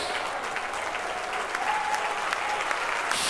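Church congregation clapping together in steady, continuous applause, a dense wash of many hands filling the room for a few seconds without pause.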